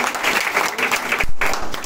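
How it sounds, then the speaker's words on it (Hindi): An audience at a college convocation claps loudly and continuously, a dense close applause with a short dip partway through before picking back up. "अब बिग राउंड ऑफ अप्लॉज एक बार जोर से तालियों से करिए।"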